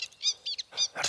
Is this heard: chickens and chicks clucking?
no